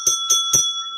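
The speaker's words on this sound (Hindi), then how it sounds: "ऐसे ही घंटी बजाते हैं टन टन टन" A street ice-gola vendor's hand bell rings three quick, bright clangs close by in a residential lane, the last one ringing on and fading out.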